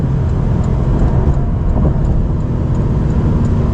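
A Porsche 911 Carrera (991.1) engine runs with a steady, loud low rumble throughout, close by and unbroken, no voices over it.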